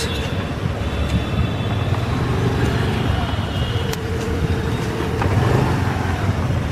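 A motorbike rides over a rough, broken road on a Bengaluru route. The engine and road rumble stay steady and loud throughout, with occasional rattles and a background drone.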